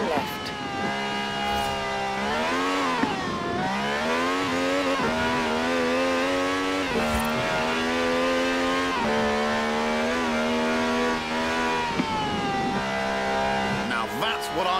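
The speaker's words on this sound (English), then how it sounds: "No clattery diesel engine here. This has a V12 with over 750 horsepower" A V12 car engine making over 750 horsepower, driven in the racing game Forza Horizon 4, roars loud and close without a break, its pitch climbing and dropping repeatedly through revs and gear changes.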